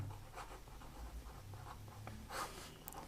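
Pen scratching across paper while a quadratic-equation maths solution is written out by hand, soft continuous scribbling strokes with a few brighter bursts, close and quiet, with no talking.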